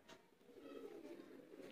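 Soft, low cooing from teddy pigeons, a steady murmuring rumble throughout with no talking.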